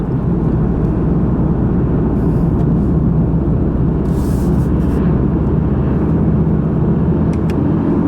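A 2016 Volkswagen Golf R with DSG gearbox accelerates to overtake on a road, its engine a loud steady drone under constant road and wind roar, heard from inside the car, no talking.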